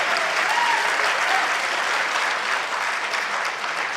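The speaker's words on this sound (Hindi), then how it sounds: "हाँ ताली बजा लो" During a motivational talk, an audience breaks into steady, even applause that stays full and close, easing slightly toward the end.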